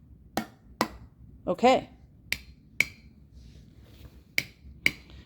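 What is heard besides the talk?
tapping lids of home-canned tuna cans, sealed and unsealed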